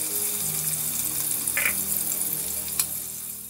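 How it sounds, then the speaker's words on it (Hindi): Onions fry in a quarter cup of hot oil, giving a steady, close, crackling sizzle throughout with a couple of soft stirring clinks. "इसमें हम प्याज फ्राई कर लेंगे"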